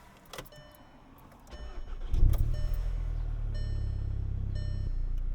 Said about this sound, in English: let's start this puppy up